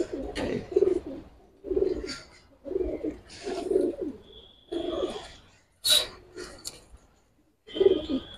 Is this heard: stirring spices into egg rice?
no